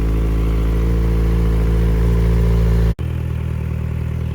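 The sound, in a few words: Kawasaki Z900RS Cafe 2019 motorcycle engine idling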